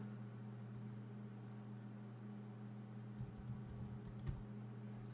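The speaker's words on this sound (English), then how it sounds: "hit the Windows key, and then just start typing." Faint keystrokes on a Windows 8 computer keyboard, a short cluster of light taps near the end over a steady low electrical hum, with no talking.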